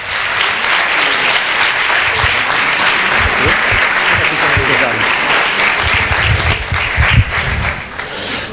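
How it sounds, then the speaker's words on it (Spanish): A studio audience breaks into loud, sustained applause as a guest speaker on the Inquisition is introduced, dense clapping with a few sharp claps standing out, close and continuous. "Le damos un aplauso a Fermín Mayorga."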